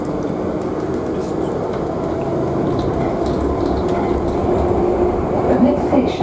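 Steady rumbling roar of a moving passenger train heard from inside the carriage, continuous and fairly loud, with faint voices underneath.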